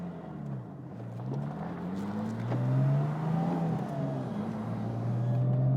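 A Porsche 911 997 GT3 engine pulls while driving, its tone rising and falling smoothly with revs as the car is heard from inside, moderately loud and with no talking.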